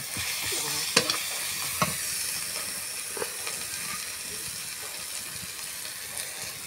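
Garlic, ginger and cumin-coriander paste sizzles steadily in a pan while a utensil stirs it, adding occasional sharp scrapes and taps over the constant frying hiss.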